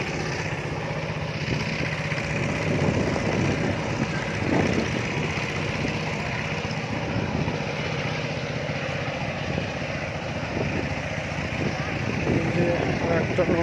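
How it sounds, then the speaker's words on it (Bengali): A small steamer boat's engine runs steadily as it passes at speed across a wetland, a continuous mid-distance drone with broadband water and wind noise and faint voices mixed in. "সামনে দূরে একটা স্টিমার, ভালো ছোট স্টিমার যাচ্ছে খুব দ্রুত গতিতে।"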